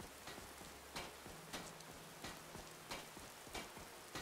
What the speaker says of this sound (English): And it's bloody well raining.